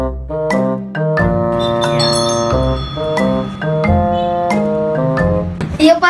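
A bell rung at the altar during a Catholic Mass, repeated bright metallic strikes with long ringing tones layered over one another, loud and close, lasting several seconds without speech.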